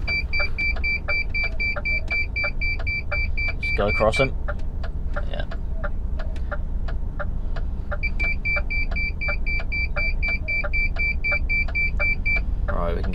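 A car's parking sensor beeps near a fence in two bursts of rapid regular high beeps, separated by a quiet gap, over a low engine rumble and road noise while people talk briefly.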